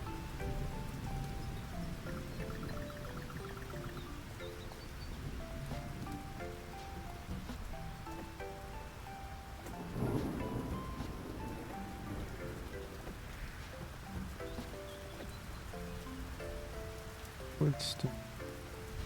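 Steady rain patters in the farming game Fields of Mistria, a soft constant hiss under tinkling melodic game music and a few brief interface blips and chimes.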